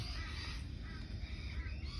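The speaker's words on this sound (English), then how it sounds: "Excuse the birds in the background." Faint crows caw somewhere in the background outdoors, barely rising above a steady, noisy wind-like ambience with no clear foreground sound.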